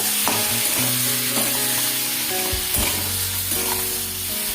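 Tomatoes with salt and turmeric being stirred in a hot pan, a loud continuous sizzle with repeated scraping strokes of the spoon, close up and without talk.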